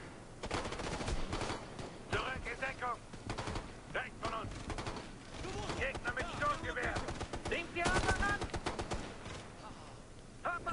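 Bursts of machine gun fire from the video game Ghost Recon: Future Soldier rattle on and off for about ten seconds, mixed with other gunshots and overlapped by someone talking.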